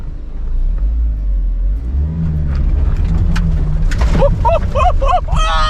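A RAM TRX pickup with its differential locker engaged crawls up and over an off-road obstacle, its engine a steady loud rumble rising in revs toward the end, with a brief whine and faint voices underneath.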